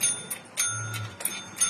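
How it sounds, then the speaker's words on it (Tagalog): A small desk bell tapped by a dog during a trick-training session rings several times in quick succession, bright and close, with metallic tones that ring on briefly between taps. "Touch the bell."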